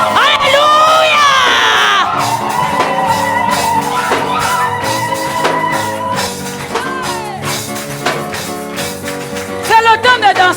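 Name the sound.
church congregation shouting cries of joy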